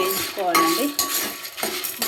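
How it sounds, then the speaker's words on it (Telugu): A metal spatula stirs lentils frying in a pan for coconut chutney, making a few short scraping clinks and knocks in an irregular rhythm, close and fairly loud. "ఇవి మంచిగా ఇట్లా వేయించుకుంటూ ఉండాలి"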